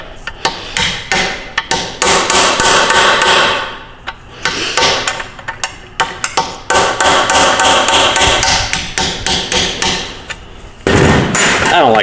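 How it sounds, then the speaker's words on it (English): A hammer strikes a cape chisel while tearing down a ZF5 manual transmission from a 1997 Ford F350, a rapid series of loud, sharp metallic blows in bursts with brief pauses between them. "Cape chisel, drive one side down."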